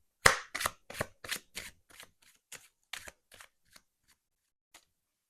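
A deck of cards riffle-shuffled and tapped, a series of crisp clattering bursts that thin out and grow fainter toward the end.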